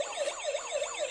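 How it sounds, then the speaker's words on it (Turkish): A toy ambulance siren wails in a steady, rising-and-falling electronic pattern, several quick cycles within about a second, fairly close and clear, with no talk over it. "Ambulans nerede Yağız? Ambulansı da getir"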